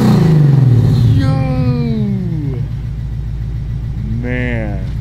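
450hp Lexus IS F engine running at idle with a deep, steady rumble, close by, under excited talk and exclamations from people nearby.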